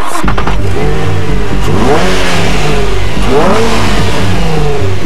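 A 280-horsepower 3.5-liter dual overhead cam 24-valve aluminum V6 in an Infiniti G35 revs hard, rising in pitch twice in quick surges with brief dips between, loud and close.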